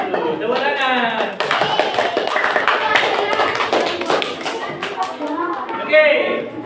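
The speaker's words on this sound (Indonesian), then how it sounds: "Tepuk tangan." Children clap their hands together in a classroom, quick sharp claps mixed with excited young voices and laughter, close and fairly loud.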